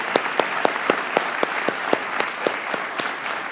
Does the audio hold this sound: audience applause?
yes